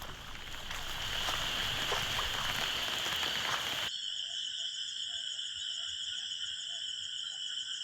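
Torrential downpour in Tumakuru, with coconut and areca plantations under floodwater: a dense, steady roar of heavy rain for about four seconds, then an abrupt cut to a quieter scene of chirping insects and frogs.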